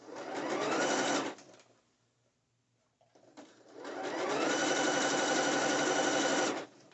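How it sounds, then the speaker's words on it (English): Sewing machine stitching bikini fabric runs in two long, steady, close whirring bursts separated by a quiet pause of about two seconds, loud and even, with no speech. "I'm going to start sewing."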